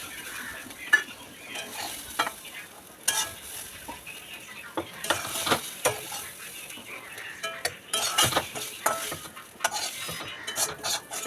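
Pieces of taro fry in oil in a pan while being stirred, a continuous sizzle broken by repeated scraping and clinking of a utensil against the pan, no talking.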